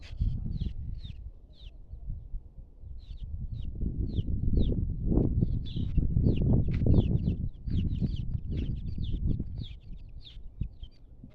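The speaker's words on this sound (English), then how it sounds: "just hearing the birds singing and even the chickens moving about" On a farm in The Gambia, chickens cluck and call repeatedly at close range while birds chirp in short bursts. There is a soft shuffling ambience underneath, and no talk.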